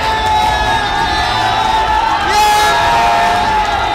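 A crowd at a PBA basketball draft venue roars and cheers, loud and sustained with whoops and yells rising slightly partway through.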